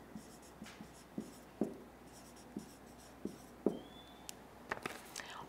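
Chalk or a marker taps and scratches on a classroom board in short, separate strokes, irregular and fairly close in an otherwise quiet room.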